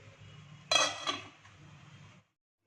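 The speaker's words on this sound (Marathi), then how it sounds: "झाकण ठेवते मी" A lid is set on a cooking pot holding water, jaggery and cardamom powder, making one clear metallic clink followed by a lighter rattle, close and quiet, then silence.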